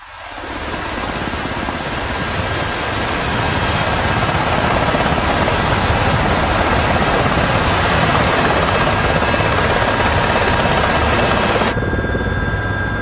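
A loud, steady helicopter roar with thick rotor and engine noise that fills the whole stretch, cutting out abruptly near the end.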